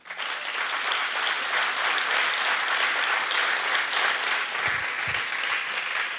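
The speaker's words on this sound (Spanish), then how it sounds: "Démosle un aplauso al Señor." Sustained applause from a church congregation during a Spanish-language sermon, steady and dense throughout, with no talk over it.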